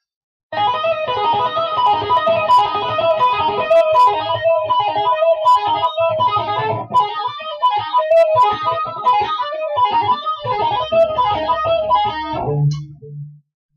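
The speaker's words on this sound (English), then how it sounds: "So that's what you can do with the 3-finger pull off." A rapid, continuous three-finger pull-off run of electric guitar notes with a slightly distorted tone, played alone and loud, ending in a low ringing note.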